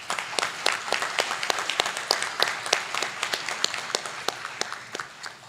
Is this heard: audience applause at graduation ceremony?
yes